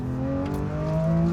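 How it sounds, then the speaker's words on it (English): A Porsche 911 engine hums steadily at speed on the Autobahn, a sustained tonal drone with clear harmonic bands that rise slightly in pitch toward the end, close and continuous with no talk. "It's buzzing away on the Autobahn, even at 80 miles an hour"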